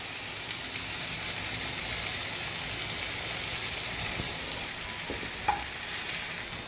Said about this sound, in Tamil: எவ்வளோ புதினா போட்டோம் பார்த்தீங்களா, வதங்கிடுச்சு.